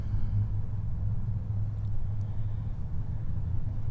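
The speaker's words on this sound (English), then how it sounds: "I have to excuse all the traffic in the background if you can hear that" Steady low rumble of road traffic during the early morning rush hour, a continuous distant drone of cars that persists unbroken throughout.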